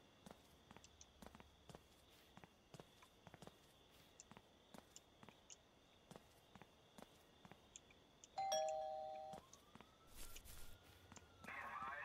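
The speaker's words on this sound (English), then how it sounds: "All I did was ring the doorbell." A doorbell rings once in the video game Hello Neighbor, a clear chime that follows a long run of steady footsteps and gives way to faint background sounds.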